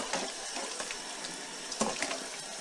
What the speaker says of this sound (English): So I'm going to re-wet the yarns 2 at a time.